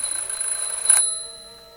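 A video game smoke detector's piercing continuous tone rings loudly, then cuts off sharply and leaves a fading electronic ring as it is silenced.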